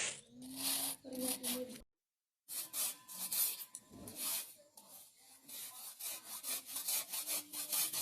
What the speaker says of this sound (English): Get yourself a grater and start grating.